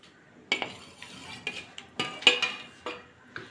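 Paneer going into a curry in a pan, with a spoon clinking and scraping against the cookware in several distinct knocks during stirring, close and clear with no talking.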